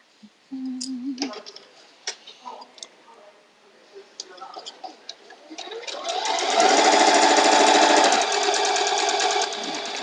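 A sewing machine stitches a quilt label at adjustable speed, starting with short bursts amid handling noises and then running in a loud, steady hum for several seconds before easing off.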